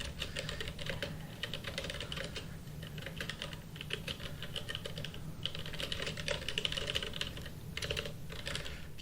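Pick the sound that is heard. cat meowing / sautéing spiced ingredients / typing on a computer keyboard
typing on a computer keyboard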